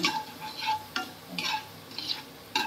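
Crushed cinnamon and cloves dropped into hot oil for chicken kosha give a soft, steady sizzle broken by short scraping bursts from stirring, quiet and close, with no talking.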